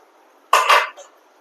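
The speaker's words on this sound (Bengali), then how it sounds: "এবার আমি এর মধ্যে সিদ্ধ করে নেওয়া ছোলাটাকে দিয়ে দেবো" Boiled chickpeas tipped into hot spiced oil in a pan make one brief, bright clattering splash of about half a second, followed by a faint trailing sizzle in an otherwise quiet kitchen.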